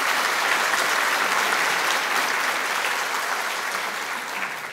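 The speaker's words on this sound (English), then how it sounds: "So if you would please give all of these folks a big round of applause." An audience at an education awards evening applauds: dense, steady clapping from many hands that holds for several seconds, then begins to fade slightly toward the end.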